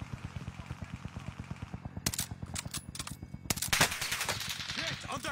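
Gunfire in an online multiplayer shooter: rapid automatic bursts in a regular rhythm, then sharper, louder cracks and heavier volleys toward the end, with players' voices faintly under the shots.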